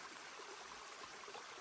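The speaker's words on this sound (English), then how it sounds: "the stream right here" A mountain stream flows steadily, a soft continuous rushing hiss that stays even and fairly faint throughout with no voices.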